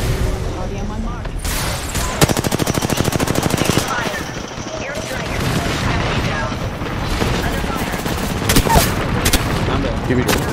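Rapid machine-gun bursts and heavy gunfire in a video game battle, loud and dense, with rattling automatic fire and booming impacts throughout, while a voice talks over it.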